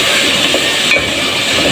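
Onions with ginger garlic paste sautéing in a pan while cooking daal mash, a steady loud sizzling hiss with no talk.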